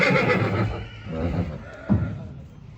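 A mare gives a short neigh close by at an animal market, with people talking over and around it.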